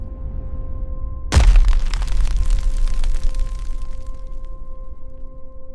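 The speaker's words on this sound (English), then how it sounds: "Most collisions simply destroyed the particles." A single loud, sudden burst crashes in and decays into a rumbling, crackling roar over several seconds, a synthetic sound effect for tiny dust grains colliding and shattering, set over a low steady hum.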